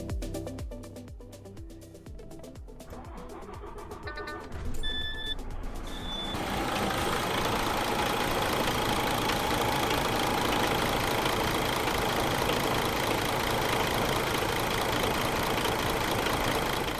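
DAF truck diesel engine with a fuel pressure fault cranking over after a few workshop beeps and clicks, then catching and settling into a steady, loud idle that runs on alone.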